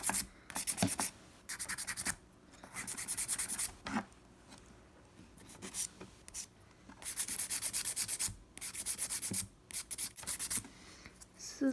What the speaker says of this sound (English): So now you can go in and buff.